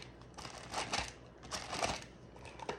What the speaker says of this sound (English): I'm just scraping this off the paper